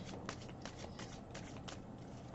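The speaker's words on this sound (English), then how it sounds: "Some shuffling here, a little bit more shuffling." Tarot cards being shuffled by hand make soft, quiet rustling and riffling bursts in a loose, irregular rhythm, heard up close without talk.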